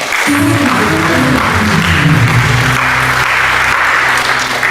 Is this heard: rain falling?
no